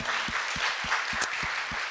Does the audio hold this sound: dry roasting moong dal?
no